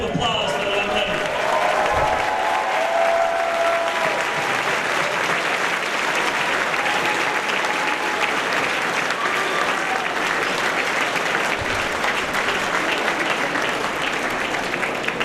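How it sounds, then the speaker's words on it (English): Rally crowd at a campaign event in Franklin applauding steadily and loudly for about fifteen seconds, a dense sustained wash of clapping with some cheering and voices mixed in. "All right, a round of applause for the young lady."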